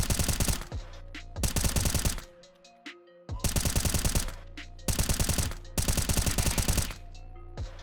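Rapid automatic gunfire in the game CS:GO comes in loud bursts of tightly spaced shots, with short gaps holding faint clicks and tones between the volleys.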